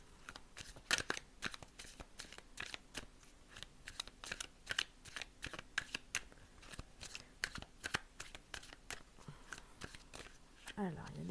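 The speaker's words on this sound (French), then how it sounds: "il y a des cartes qui se retournent" Tarot cards are shuffled and flipped over in a steady run of crisp, close slaps and riffles, quiet and dry throughout, with a voice talking at times.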